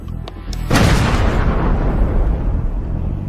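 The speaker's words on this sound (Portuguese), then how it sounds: "Termine o trabalho com um ataque da artilharia." Artillery fire in a documentary about strange weapons used during World War I: a loud boom erupts after some faint pops, then a long rumbling decay.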